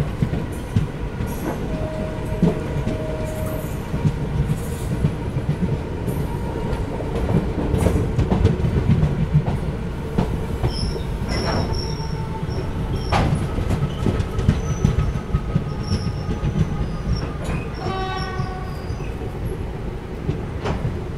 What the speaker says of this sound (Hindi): किस किस को ICF के ट्रैक साउंड्स पसंद है